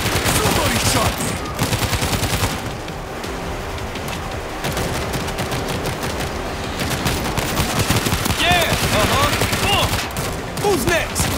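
Gunfire in a realistic World War combat video game: dense, continuous bursts of machine-gun and rifle fire crackle throughout, loud and close, with occasional shouting voices mixed in.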